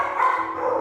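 A shelter puppy gives a single short, close bark, loud and sharp, lasting under a second, no voices.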